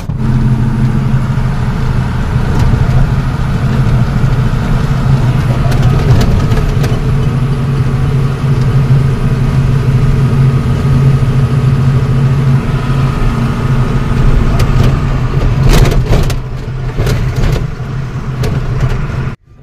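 A trailer truck's engine runs steadily at a low, rumbling idle for nearly twenty seconds, loud and close throughout, with a few faint clicks and knocks near the end and no talking.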